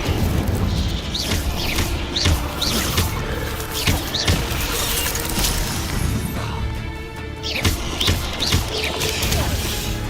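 Repeated fire spell blasts from the Hogwarts Legacy video game, a series of loud whooshing bursts and booms over dense combat noise, with rising sweeps recurring every second or so throughout.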